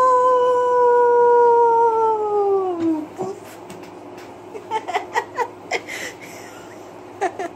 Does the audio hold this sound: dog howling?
yes